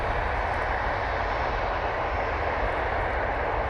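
An EasyJet airliner holds on the runway at Manchester Airport before takeoff, its jet engines giving off a steady, loud broadband roar that stays constant throughout with no voices.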